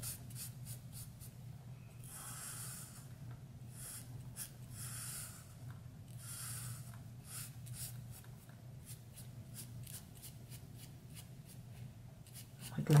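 A Sharpie marker squeaks and rubs across paper in quick, repeated strokes, some short and some longer, close up and fairly quiet with no speech.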